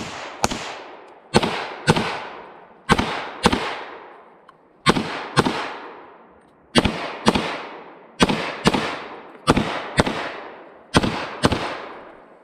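Handgun shots ring out at 15-yard targets during a shooting challenge. There are about fifteen sharp, loud cracks in quick pairs and irregular bursts, each one trailing an echo, and nobody speaks.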